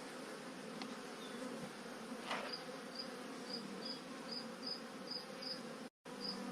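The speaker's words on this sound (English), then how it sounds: "bees running around." Honeybees buzz softly around the frames of an open Freedom Hive, a faint continuous hum with a few brief closer buzzes passing by.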